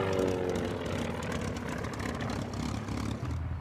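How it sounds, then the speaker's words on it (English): Steady rotor and engine roar from helicopters taking off nearby, a continuous droning wash of noise with a low rhythmic thrum, fairly loud throughout. "Some of the helicopters are taking off over there"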